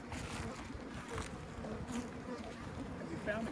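Honey bees swarm around an opened hive, a dense, continuous buzzing hum at low volume, with faint outdoor background noise and no talking.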